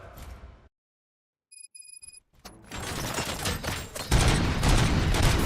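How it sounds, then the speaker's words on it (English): Heavy gunfire from the video game RoboCop: Rogue City, a loud, dense barrage of rapid shots that erupts after a brief silence and a few high electronic tones, then keeps building and grows louder. "Gunshots?"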